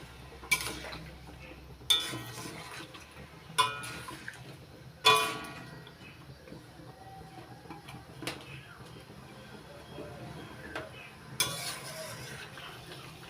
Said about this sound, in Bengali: এবার দিয়ে দিচ্ছি টুকরো করে কেটে নেওয়া আমগুলো। এবার একটু নাড়াচাড়া করে দিচ্ছি।